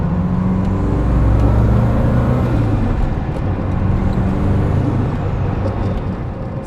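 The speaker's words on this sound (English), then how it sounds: "that's the sound of the intake noises" Intake roar of a Subaru GC8 fitted with a GTX2860 turbo on its first drive: a loud, steady broadband rush and whir that holds for several seconds, with no talking over it.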